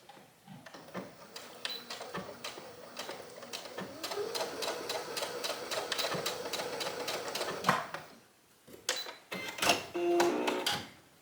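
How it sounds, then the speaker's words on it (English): A domestic sewing machine runs a long stitch to sew down the edges of a label on a dress, with steady close whirring bursts and clicking pauses between runs. "just sew down both edges with kind of a longer stitch"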